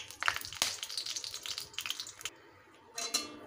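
Dry chilli, whole garam masala, a bay leaf and cumin sizzling in hot oil, with close, soft crackles and spits coming in uneven bursts and a brief lull before a final flurry.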